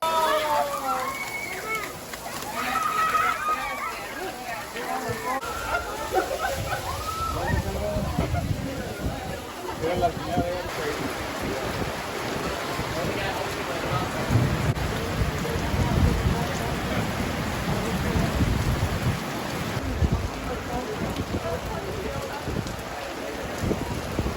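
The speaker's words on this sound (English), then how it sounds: "gear up for the rain because it's here" Heavy rain pours steadily during a thunderstorm at Walt Disney World on the way to Fort Wilderness. The dense hiss of rain runs throughout under nearby voices and distant crowd chatter.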